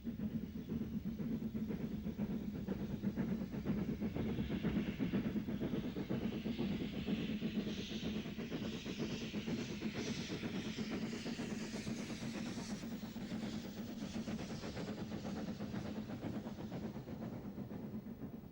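An LMS steam locomotive working a British Rail main line, a steady loud rumble with rapid rhythmic chuffing and mechanical clatter running continuously, fairly close throughout.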